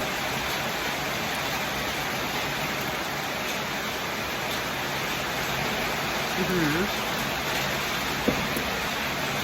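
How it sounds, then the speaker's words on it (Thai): Rain falls steadily at a resort in Khao Kho, Phetchabun, Thailand, making an even, broad hiss that fills the whole stretch, with a faint chirp and a brief tap near the end. "แล้วก็ฝนตกเลยครับ"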